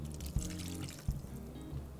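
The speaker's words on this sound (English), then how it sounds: "So I am going to add the other half of this water" Water is poured into a blender holding thick, chunky hummus, a close, short gurgling trickle with a few soft knocks.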